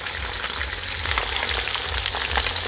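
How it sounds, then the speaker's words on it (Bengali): Cauliflower goes into a pan of frying vegetables, including carrots, being cooked for mutton fried rice. A close, continuous hiss and sizzle of hot oil runs steadily with no voices. "এখন আমি ফুলকপি দিয়ে দেব"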